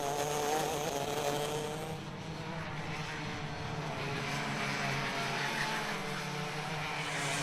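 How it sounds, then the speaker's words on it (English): Racing karts at Whilton Mill in a 2009 Club100 race, engines whining and buzzing steadily from a moderate distance, with a continuous drone that shifts slightly as karts pass. "And Kemp's going for second. And he's through"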